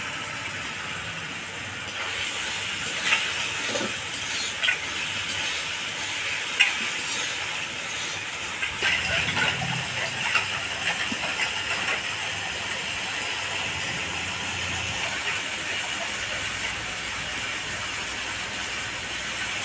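Chopped tomatoes dropped into a hot pan for a light koi fish curry, producing a steady hissing sizzle with a few scattered stirring knocks and a brief louder burst midway, with no talking.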